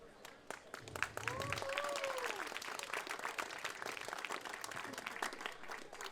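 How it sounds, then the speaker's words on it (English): Audience applause fills a hall at a Lighthouse for Ukraine gathering, a dense steady clapping that swells quickly and holds for several seconds, with a few voices and a brief whistle-like cheer rising above it. "who really deserves a round of applause are Ukrainian mothers"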